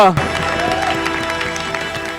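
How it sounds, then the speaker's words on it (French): A crowd at a live stage show applauds and cheers as a guest is welcomed, with dense clapping beneath a speaking voice throughout the short burst. "Sous vos applaudissements, on reçoit Bizaïs."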